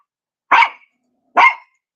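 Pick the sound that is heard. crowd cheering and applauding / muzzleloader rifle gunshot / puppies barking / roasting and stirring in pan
puppies barking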